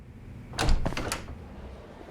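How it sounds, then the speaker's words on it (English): Door unlocking and opening in the video game Judgment: a short cluster of mechanical clicks and a latch clack, with a soft thud near the start, heard alone against a quiet background. "I gotta unlock the door."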